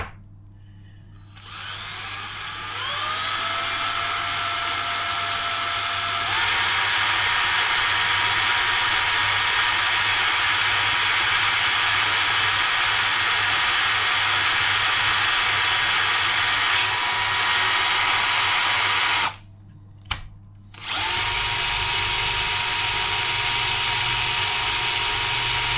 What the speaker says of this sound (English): Just get yourself cordless screwdriver, guys